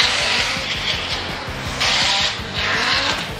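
Drift cars racing at Formula Drift Atlanta: engines roar continuously while tires squeal in long, loud swells, close and intense throughout.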